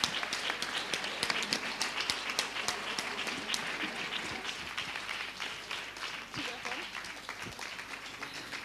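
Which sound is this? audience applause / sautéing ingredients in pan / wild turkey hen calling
audience applause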